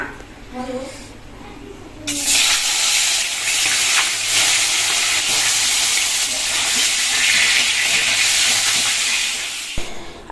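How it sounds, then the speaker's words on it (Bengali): A fish head fries in hot oil in a wok, bursting into a loud, steady sizzle after a few seconds of someone talking, then hissing continuously until it stops sharply. "তেল গরম হয়ে গেছে হচ্ছে মাছের মাথাটা ভাজবো"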